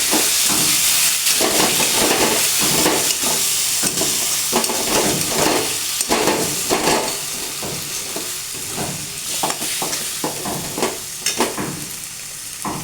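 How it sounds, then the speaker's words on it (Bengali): Turmeric, chili powder and green chilies being stirred in a hot pan, with loud, steady frying sizzle and hiss under a rhythmic series of spatula scrapes and stirs, no talking. "একটু ধরে নাড়তে হবে আমি একটু ধরে নাড়ি"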